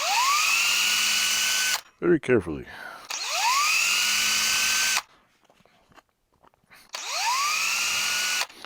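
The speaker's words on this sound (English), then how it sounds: "I'm par drilling this" Power drill boring pilot holes into the back cover of a vintage Fisher Price toy clock: three loud, sustained whirring bursts, each winding up in pitch, separated by pauses, with someone speaking briefly between them.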